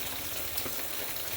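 Monsoon rain pouring steadily in Kerala, India, a dense, even hiss of countless drops hitting surfaces with no break and no voices.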